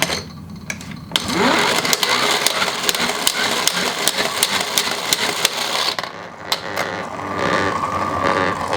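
Fisher Price Think & Learn Science Spinner plastic toy, with a small lightweight plastic ball inside, spinning in a steady whirring, rattling clatter with clicking ticks, close and fairly loud, continuing without talk.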